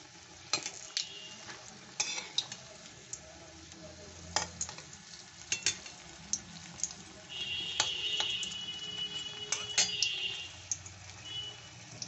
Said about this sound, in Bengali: লো টু মিডিয়ামে ভেজে নিতে হবে।